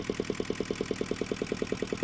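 Yanmar marine diesel engine on a boat, recently fitted with a new mixing elbow, running steadily at idle with an even, rapid thudding pulse, loud and close, with no voices.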